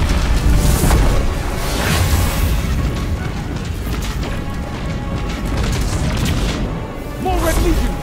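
Missile explosions in Destiny during a battle against Red Legion forces give heavy, booming blasts with rumbling low-end roars that rise and fall over several seconds, and debris clatters through the mix.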